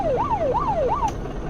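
In the video game Unturned, a car's siren cycles through three rising-and-falling wails and then cuts off abruptly, leaving a quieter low background hum. No voices.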